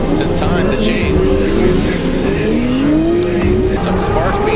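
Toyota 86 drift car from Envy Auto on a Formula Drift run in Texas, its engine wailing at high revs with steady tire squeal throughout, loud and continuous, with commentators talking over it.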